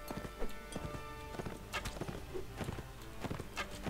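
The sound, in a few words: horse hooves galloping in Mount & Blade Warband video game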